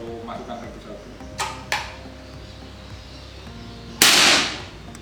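A bullpup side-pump rotary air rifle fires once with a sharp, loud crack. Two softer clicks come before it, all over a steady low background hum.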